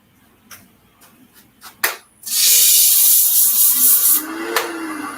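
180 grit sandpaper pressed against a woodturning piece spinning on a lathe gives a loud, steady hissing rush lasting a few seconds, preceded by a handful of light taps and knocks.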